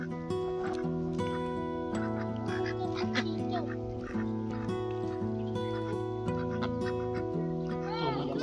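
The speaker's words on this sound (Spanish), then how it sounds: "Mira el patito" A duck quacks at Camécuaro lake in Michoacán, Mexico, over a dense bed of steady tonal music-like sound, and the calls are hard to separate from the background.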